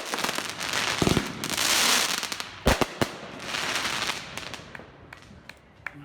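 Fireworks being set off nearby, with sharp cracking bursts and pops scattered over a rumbling, hissing wash that swells and fades across several seconds.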